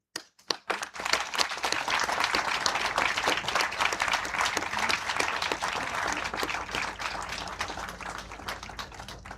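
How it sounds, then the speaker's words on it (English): Sustained audience applause at a National Maritime Day commemoration at the Port of Baltimore, honoring ships and seafarers. A few scattered claps come first, then a full, steady round of clapping from a large crowd. "join me in a round of applause in remembrance of our ships and seafarers at sea and in service to our nation"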